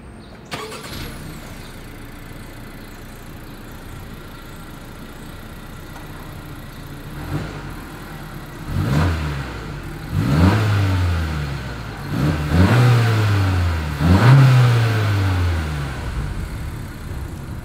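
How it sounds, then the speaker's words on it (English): A 2021 Honda CR-V with dual exhaust fires up with a sharp start, idles a few seconds, then gives four or five rising revs that swell and fall back, loud and close from behind. "Here is that exhaust clip."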